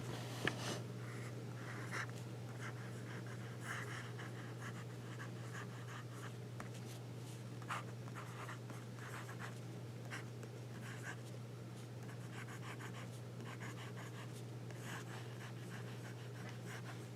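A Jinhao 159 fountain pen lays down wet ink on Rhodia dot grid paper, giving soft, close scratching strokes in irregular bursts over a low steady hum, with no talking.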